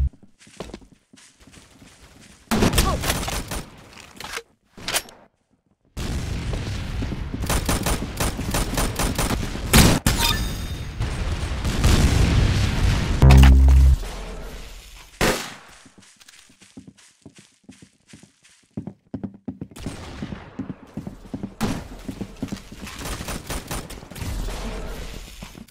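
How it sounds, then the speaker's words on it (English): Bombs dropping and bursting during an arsenal boss fight in a video game, heard as loud stretches of dense rapid blasts and gunfire-like crackle that start, stop and resume, with quieter gaps between bursts. "The bombs will drop!"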